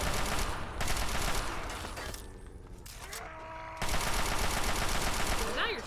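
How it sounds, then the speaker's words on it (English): Bursts of automatic gunfire from a teammate in Fallout 3, loud and rapid, easing off mid-clip into quieter ringing tones before a heavy volley resumes, with a voice briefly heard. "Dude, you're shooting your own guy."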